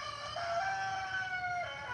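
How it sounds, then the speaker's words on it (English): A rooster crows close by, one sustained, loud crow with a rising and then steady drawn-out tone, heard alone without talk. "Shut up, Rooster."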